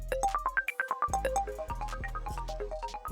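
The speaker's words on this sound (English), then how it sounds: "And then I've got this other ARP, this mallet ARP, that also sounds really cool." A bright mallet-style arpeggio from the Xpand!2 synth plugin runs in quick rising and falling notes over a deep sustained bass tone, playing alone without any voices.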